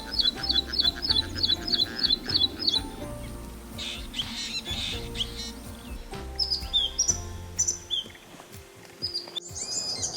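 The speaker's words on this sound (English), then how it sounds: "Songbirds have also been found to tailor the pitch of their songs depending on the perch that they sing from." Songbirds sing in quick repeated high chirps and trills, starting with a rapid run of identical notes and then breaking into scattered whistled phrases over a low, steady background rumble.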